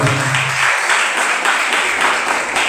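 Congregation applause during an evening church service, a loud, steady burst of many people clapping together without a break.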